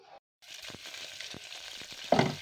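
Chopped onions fry in a pan, cooking toward golden brown: a close crackling sizzle that starts after a brief pause, dotted with sharp pops and a louder burst near the end, with no talk.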